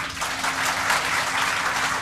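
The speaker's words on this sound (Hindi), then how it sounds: "ताली तो बजाओ" A seminar audience claps steadily, a dense, even burst of applause from many hands in a hall, loud and continuous with no talking.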